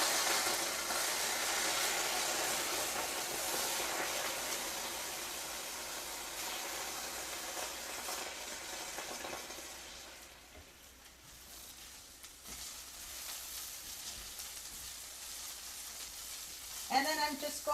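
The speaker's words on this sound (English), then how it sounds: "I'm just going to add a little bit of the broth, but be careful because it's hot." Brussels sprouts searing in a hot pan sizzle loudly as broth is poured in, the steady frying hiss easing midway and then flaring again near the end.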